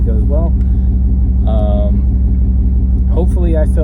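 A 350 small block Chevy V8 in a 1995 Chevy K1500 idles steadily with a deep, even rumble close by, while a person talks over it.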